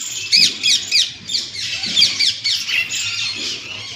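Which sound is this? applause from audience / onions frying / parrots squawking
parrots squawking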